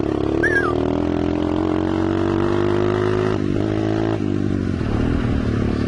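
Small dirt bike motorcycle riding and slowing on engine braking, a steady close engine drone with loud, continuous wind and rattle, the engine note dipping and shifting partway through.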